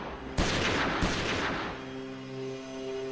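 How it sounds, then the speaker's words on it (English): Two sharp gunshot-like bangs crack out about half a second apart, each followed by a lingering rumble that slowly fades away. "Suddenly, he hears gunshots."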